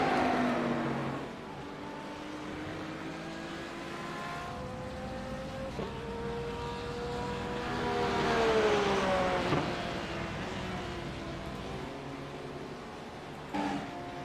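GT3 race cars, among them an Audi, race at Brands Hatch, with engines whining and shifting pitch as they pass, rising to a louder swell midway before fading, heard from a distance.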